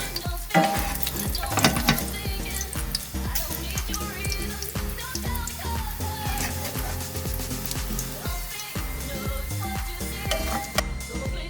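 Steady, loud sizzling of melted meat fat and onions frying in a pot, with occasional stirring scrapes throughout.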